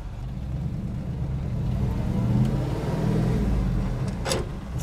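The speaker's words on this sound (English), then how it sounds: "I'll start this time in the creeper gear number one, just to show you it's all working well." A 1979 Ford F150 with a 400 engine and 4-speed creeps along in first gear, its engine giving a low, steady rumble that swells slightly. There is a brief higher rattle near the end.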